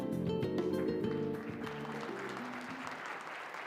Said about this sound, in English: Please give a big round of applause for Mr. Park Jae-min.